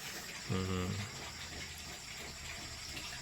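A water fountain runs steadily and faintly in the background on a pig farm, with a brief hum from a voice near the start.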